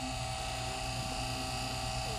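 A vacuum pump runs steadily during an R12 car air-conditioning recharge, giving a continuous loud mechanical whine and buzz with no change in pitch.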